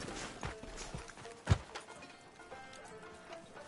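Hooves of a horse plodding slowly in a Western video game, soft uneven clops with one sharper thud, close and fairly quiet.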